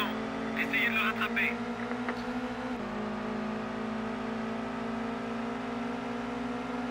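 A Mitsubishi Evo engine in the 2000 racing game TOCA World Touring Car drones at a steady high pitch, shifting once as the revs change, while people talk over it.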